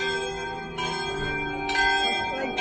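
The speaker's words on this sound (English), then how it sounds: "There's the bells." Church bells peal at San Pedro Macati church, with a couple of clear strikes ringing out over steady background ambience from a short distance.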